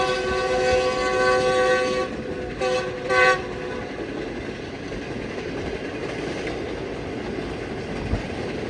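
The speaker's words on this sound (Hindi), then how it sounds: "लेकिन विसल जो है ये बड़ा दमदार है भाई GU40 का" A GU40 locomotive on a Green Line passenger train from Lahore sounds its powerful whistle close by, a loud sustained multi-tone blast followed by two short toots, then the steady rumble of the running train continues.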